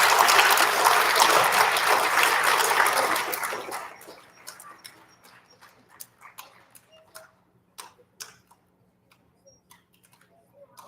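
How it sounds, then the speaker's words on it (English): An audience at an elementary school recognition ceremony claps loudly for school bus nominees for about four seconds, then the applause dies away into a few scattered, isolated claps. "Big round of applause for our bus nominees"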